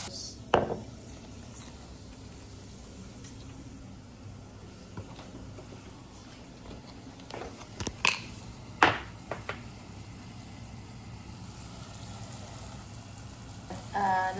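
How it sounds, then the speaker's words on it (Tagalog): Shin Ramyun instant noodles with a little broth in a pan as soy sauce is added, giving a faint, steady sizzle broken by a few sharp clicks and taps from a utensil. "Tapos lagyan na natin ng toyo."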